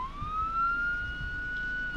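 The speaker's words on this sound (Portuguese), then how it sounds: "Liguei a sirene e correram." A police siren in the video game Arma 3 wails with a single rising tone, steady and fairly close, over a low rumbling background.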